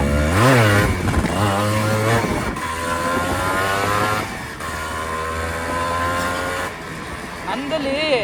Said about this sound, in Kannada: ನಮ್ದಲ್ಲಿ ವೀಲಿ ಟ್ರೈ ಮಾಡೋಣ